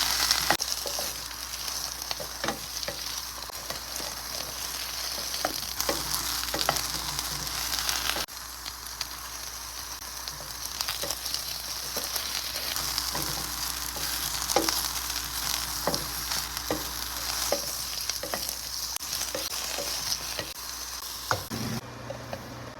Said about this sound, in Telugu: బ్రౌన్ రంగు వచ్చే వరకు వేయించుకోవాలండి.